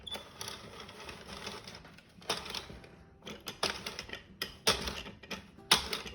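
A hand-cranked circular knitting machine clatters at close range as it turns, with rapid mechanical clicking and ticking that starts sparse and grows denser and louder toward the end, and no one speaks.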